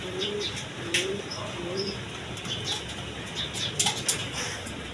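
Giribaz pigeons cooing in low, repeated throaty calls, joined by a few bursts of wing flapping and faint chirps, all fairly close over steady background noise.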